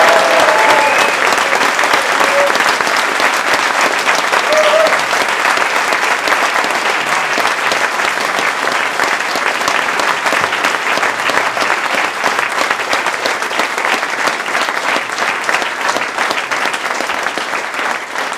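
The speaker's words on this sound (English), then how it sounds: "give a round of applause, a massive round of applause to the Stand Comedy Club" Audience applause at the close of a stand-up comedy show at the Stand Comedy Club, loud, dense and sustained without a break, with faint cheers mixed into the clapping.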